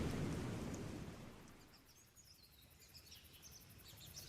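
A thunderstorm sound effect opens with a deep, low rumble of thunder that fades into a soft hiss of steady rain, with faint bird calls in the background.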